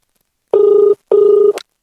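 A telephone rings in two short electronic trills separated by a pause, loud and close, with the second cut off abruptly by a click.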